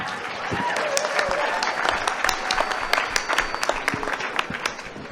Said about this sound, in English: All right, give yourselves another round of applause.